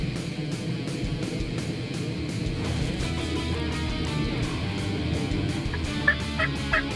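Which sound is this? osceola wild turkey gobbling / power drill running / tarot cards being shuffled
osceola wild turkey gobbling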